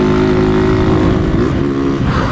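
A 2022 Honda motorcycle fitted with a freshly mounted aftermarket exhaust revs nearby, loud and steady with a droning engine tone that rises and shifts as the throttle opens.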